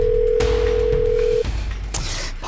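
A steady single-pitch telephone dial tone sounds loud and alone for about a second, then cuts off, leaving low background hum and rustling.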